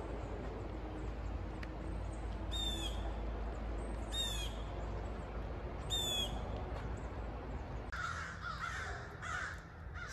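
Crows caw loudly and repeatedly in wet woodland on a Kingsport, Tennessee greenbelt, harsh calls coming in bursts over steady rain and ambient hiss.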